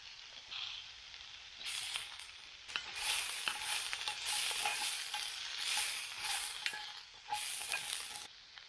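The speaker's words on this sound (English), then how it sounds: "Then I put back the pork belly." Pork belly, garlic and par-cooked green beans frying in a pan at a campsite, a bright crackling sizzle that swells in bursts as the food is stirred, fairly faint overall.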